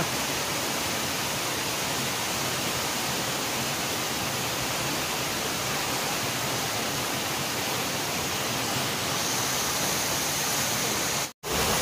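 Loud, continuous roar of Vicente Falls in Biliran, heard from its base, a dense rushing wash of water up close, with a brief cutout near the end.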